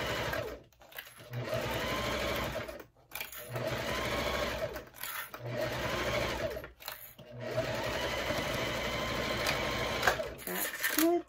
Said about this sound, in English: See me sew?